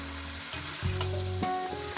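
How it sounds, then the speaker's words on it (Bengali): Fenugreek greens frying in a pan make a steady, close sizzle with a light stirring scrape, heard alone without talk. "দিয়ে এটাকে আমি ভাজতে থাকবো।"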